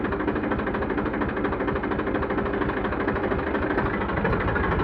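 A 2015 tractor engine idles with its hydraulics running, a steady close diesel chugging with an even, knocking pulse and no voices over it.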